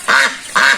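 Peking ducklings hatched under a hen give two loud, close quacks in quick succession, with a short pause between them and no talk.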